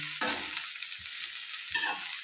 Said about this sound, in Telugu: ఇప్పుడు మనము సన్నగా కట్ చేసి పెట్టుకున్నటువంటి క్యాబేజీని వేసుకొని తాలింపు అంతా కూడా బాగా పట్టేటట్లు కలుపుకోవాలి